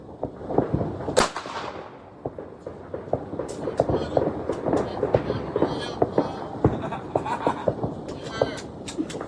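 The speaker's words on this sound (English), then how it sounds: "Listen to all the gunfire in the background." Repeated sharp bangs and cracks of gunfire pop irregularly on New Year's, some near and loud, others distant, mixed with crackling bursts and a shouting voice amid a noisy outdoor din.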